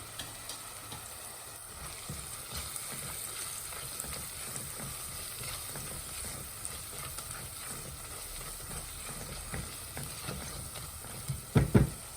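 Onions fry in a pan for mutton curry, a soft, steady sizzle and crackle heard fairly close, with a few louder clatters of stirring near the end.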